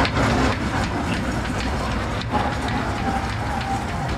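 A children's toy train ride at the Joypurhat cottage industry trade fair in 2025 gives a continuous rumbling, clattering run with loud fairground din underneath.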